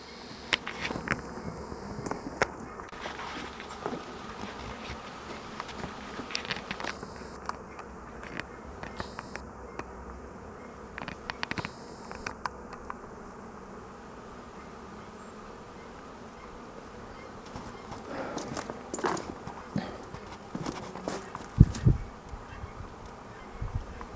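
Honey bees buzz steadily around hives in early spring, a continuous close drone that swells and fades in waves over a low outdoor background, with a few soft knocks near the end.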